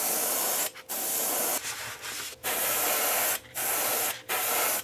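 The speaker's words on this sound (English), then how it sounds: "I'm gonna start off by painting this with a very light coating of iridescent silver" An airbrush spraying a light coat of iridescent silver paint onto a plexiglass lipless crankbait lure, close steady hissing bursts broken by brief pauses, no talking.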